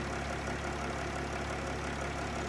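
A Mercedes OM642 3.0 V6 diesel, the 350 CDI unit, idles steadily and close by with an even, continuous rumble. No start-up surge is evident, and no one speaks.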